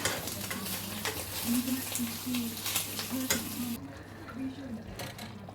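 Breakfast of bacon and tomato frying in a pan while being stirred, with a close crackling sizzle and faint utensil scrapes that cut off abruptly before the end.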